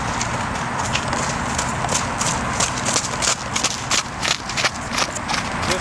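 Hooves of Rosie, a French Warmblood mare on her first ride under saddle, clip-clop in a steady, close, repeating rhythm over a constant background hiss.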